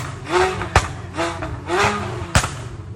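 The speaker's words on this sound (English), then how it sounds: "it's super loud as well with the custom exhaust, it definitely pops on the road" A hybrid V8 car with a loud custom exhaust revs in three rising bursts, with two sharp pops between them, close and loud.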